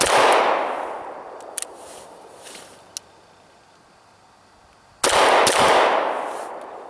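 A single sharp report from a SAR B6P pistol fired at a range, loud and close, with its echo fading slowly into the background, a second blast following about five seconds later.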